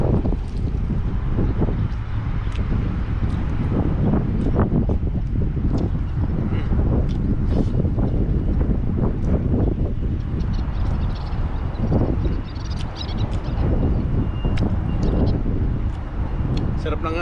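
Steady gusting wind buffets the microphone with a low roar throughout, while people talk underneath.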